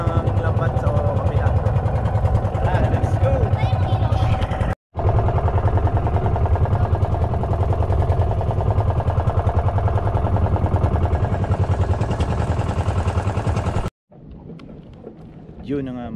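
The engine of a fishing boat out at sea for net fishing runs with a loud, steady low drone. It cuts out briefly once, and quieter sound with a voice follows near the end.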